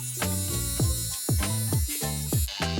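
Cordless electric hair trimmer buzzing close by, its motor pitch dipping and recovering in repeated quick bursts as it cuts through hair on a man's head.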